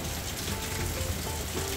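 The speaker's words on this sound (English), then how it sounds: "It's just started to rain now." Rain beginning to fall at Ochheuteal Beach in Sihanoukville, Cambodia, during the rainy season, heard as a steady dense hiss and patter that continues without a break and is fairly loud, with no voices.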